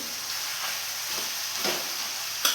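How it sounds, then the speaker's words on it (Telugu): Gongura leaves cooking with tomatoes in a pan give a continuous close sizzle, broken by a few soft stirring scrapes and a sharper clack near the end. "ఇందులో ఇప్పుడు గోగాకు వేసేస్తాం కొద్ది కొద్దిగా వేసుకుంటూ మగ్గించుకోవాలి"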